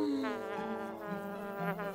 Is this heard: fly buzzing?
yes